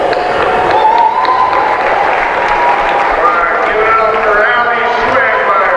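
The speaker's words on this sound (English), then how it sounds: "So a nice round of applause from the crowd here" A basketball game crowd applauds in a sustained wash of clapping and cheering, with a voice talking over the ovation throughout.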